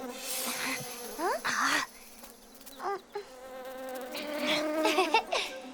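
Cartoon bee buzzing, a close, whining drone that swoops up and down in pitch in several passes, rising and falling in loudness with brief gaps between.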